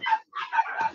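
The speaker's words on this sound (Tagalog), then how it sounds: "meron akong background music, yung mga aso ko" Several pet dogs give short, high yipping barks in quick succession, fairly faint and a little distant, with no talk over them.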